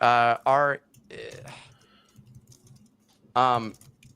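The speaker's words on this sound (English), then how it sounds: "All I'm hearing is keyboard right now." Quick, clattering keyboard typing between bursts of nearby voices, with someone talking over part of it.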